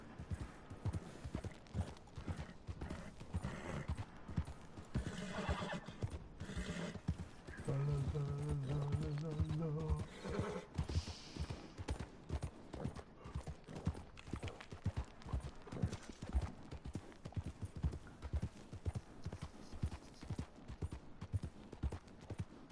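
Rhythmic hoofbeats of a galloping horse in Red Dead Redemption 2 online, a steady fast clip-clop throughout with a brief whinny-like tonal cry near the middle, under occasional talk.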